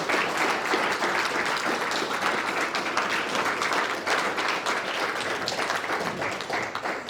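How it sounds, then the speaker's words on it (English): Steady, continuous applause from a forum audience on renewable energy and energy security greets Senator Roberts, many hands clapping at an even level from start to finish. "I think he deserves another round of applause."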